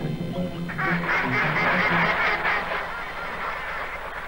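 A duck quacks in a loud, rapid run of harsh calls at close range, with the calling fading out into background noise toward the end.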